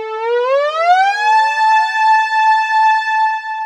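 A synthesizer imitates a siren by sliding the key's pitch, rising from a low tone to a high one and then holding steady as a loud, continuous wail with no other sound.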